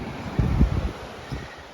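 Wind gusts across the microphone on a beach in the Algarve, giving a low rumbling buffet that swells for a moment and then settles into a softer rush.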